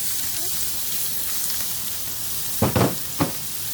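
Garlic, onion, pimento and Scotch bonnet peppers sizzle in hot oil in a large Dutch pot, a steady hiss that jumps with a few quick loud bursts as they are stirred near the end.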